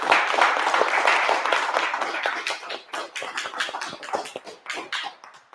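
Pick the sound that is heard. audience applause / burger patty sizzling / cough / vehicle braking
audience applause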